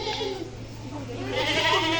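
A goat at a house with chickens gives a wavering bleat, fairly close and moderately loud, over a low steady background hum.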